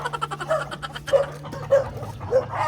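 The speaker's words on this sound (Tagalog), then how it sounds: "may aso na naman." A dog barks in a quick series of sharp yips, repeated steadily and loud, up close, with a low hum underneath.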